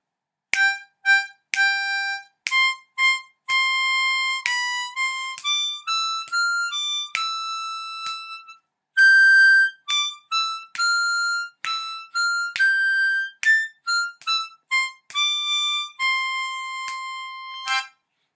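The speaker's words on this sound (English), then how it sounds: "so the second verse in full would sound like this." A harmonica plays the second verse of the Twelve Days of Christmas alone: a steady run of clear, bright, sustained single notes and short phrases, each separated by brief pauses, close and moderately loud with no talking.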